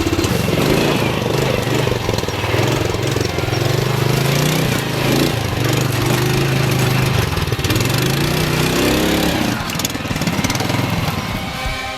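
A Rokon two-wheel-drive motorcycle engine roars loudly and continuously nearby as it rides through rough, hole-filled ground, its pitch rising and falling with the throttle and no talk over it.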